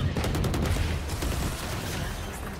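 Gunfire from a Valorant match rattles out as a rapid, dense burst of shots, loud and close, continuing steadily throughout with little pause.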